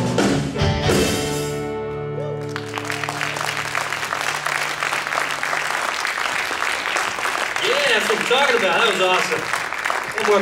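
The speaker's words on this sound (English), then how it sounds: "One more big round of applause." An audience applauds after a live rendition of a song, a sustained, dense round of clapping that follows a closing musical chord, with a voice speaking over it near the end.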